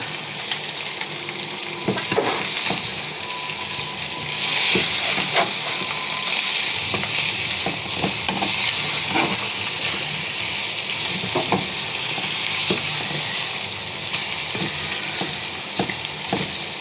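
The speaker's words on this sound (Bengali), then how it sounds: "সব মশলার সাথে মাছগুলো ভেজে নিতে হবে" Hilsa fish fry with spices in hot oil, a loud continuous sizzle and hiss close up, broken by repeated scraping stirs of a utensil against the pan, no voices.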